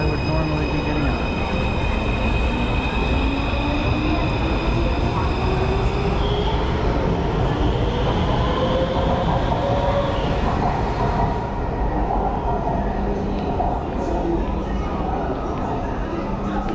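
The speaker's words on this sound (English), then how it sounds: "train I would normally be getting on." A train moving through a station or along a track in Taipei, a continuous loud rumble with rising and falling whines and a faint squeal, close by and steady throughout.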